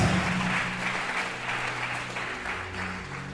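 A church congregation claps together in sustained, fairly even applause that holds steady throughout, loud and close, with no voices standing out over it.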